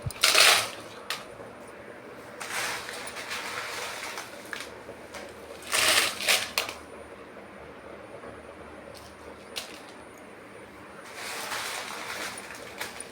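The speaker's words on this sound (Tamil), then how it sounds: "இப்போ ட்ரை ரோஸ்ட் பண்ணுறேன்" Dried red chillies are dry-roasted in a pan over a low flame for homemade chilli powder, with intermittent bursts of rattling and scraping as they are stirred, separated by quieter stretches.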